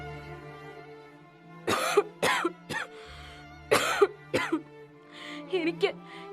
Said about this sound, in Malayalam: എനിക്ക് വല്ലാത്ത ചുമ.